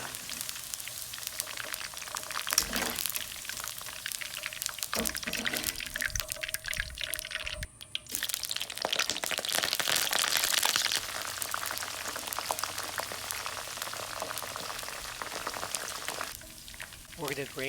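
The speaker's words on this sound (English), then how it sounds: "We're going to fry the Brussels sprouts in batches for about 2 minutes." Brussels sprouts deep frying in batches in vegetable oil heated to 350 degrees, a steady dense sizzle and crackle of bubbling oil running throughout at close range, with brief louder bursts and a short dip partway through.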